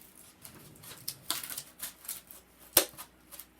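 Kid scissors snip in short, quiet, irregular cuts at close range, small crisp clicks with one sharper snap near the end.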